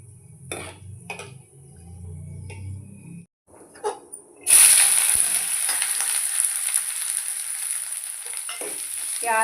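Onions frying in a pan: after some light clinks of utensils, a loud sizzle bursts up as they hit the hot oil and then hisses steadily nearby.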